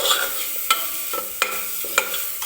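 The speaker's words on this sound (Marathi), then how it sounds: "हे सगळे मसाले टाकल्यानंतर मी छान असा मसाला सुद्धा भाजून घेते" Spice masala for a drumstick curry roasting in a pan: a close, steady sizzle broken by a few sharp scrapes and taps of a spoon against the pan, with no talk.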